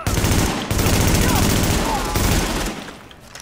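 Rapid, sustained bursts of gunfire in the video game Tom Clancy's The Division, loud and close, with brief gaps between volleys before fading out.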